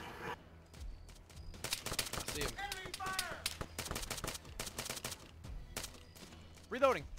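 Gunfire in the video game Arma 3 Apex: bursts of rapid automatic shots and single cracks ring out in irregular clusters, some close and sharp, some more distant, with brief voice fragments between them.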